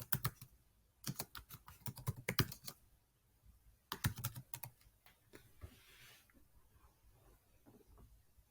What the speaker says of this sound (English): Now I'll type the name of the film.